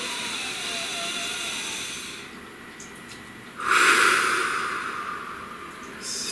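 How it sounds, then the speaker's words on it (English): A slow, deep breath drawn in during a guided meditation, a soft airy inhale that swells near the middle before easing off, heard alone against a faint steady background hiss. "Please take a nice deep breath."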